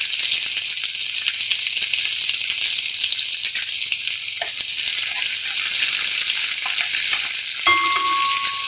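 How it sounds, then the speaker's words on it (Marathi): Loud, continuous crackling sizzle of ginger garlic paste frying in hot oil with mustard seeds, cumin and curry leaves for a cluster bean curry, with a brief metallic clink near the end. "तेल चांगलं गरम झालं की त्यामध्ये मोहरी, जिरं, कढीपत्ता,"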